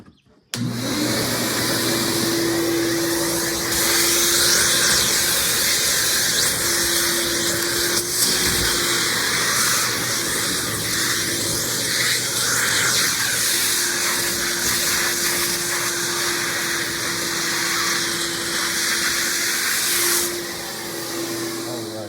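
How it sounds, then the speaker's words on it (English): A loud Ridgid shop vacuum motor roars steadily for the whole stretch, with a constant whine and slight shifts in pitch as air is sucked through. "Let's see how well the vacuum sucks."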